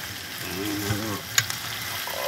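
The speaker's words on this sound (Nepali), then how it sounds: "यसलाई टक्क एकछिन भुट्ने मसलालाई यो तेलमा" Soft, steady sizzling of something frying in hot oil, with a faint clink partway through; no voices.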